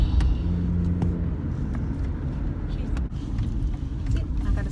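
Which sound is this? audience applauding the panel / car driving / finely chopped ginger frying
car driving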